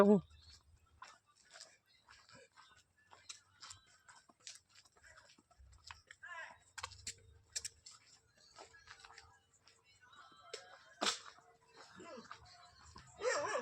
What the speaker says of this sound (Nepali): बे कत्रो ठुलोले भुकेको जस्तो लाग्दैछ। बाउ बाउ गर्दैछ हेर न।